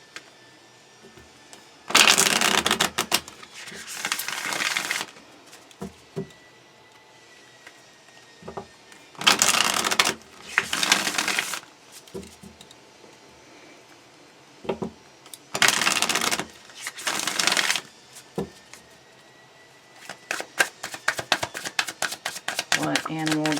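Animal spirit oracle cards are shuffled in several bursts of quick riffling and flapping, close and crisp, separated by pauses with soft handling clicks and a voice speaking between them.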